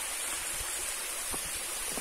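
Broad, steady rush of falling water at the top of a tall waterfall, a continuous hiss filling the scene with a few faint low thumps underneath.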